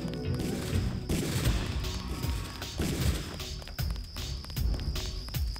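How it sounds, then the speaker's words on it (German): Enemies firing weapons in the game Deus Ex, a rapid cluttered barrage of sharp gunshots and crashing impacts, loud and continuous with no talking. "Keine Ahnung, warum die jetzt auf einmal schießen."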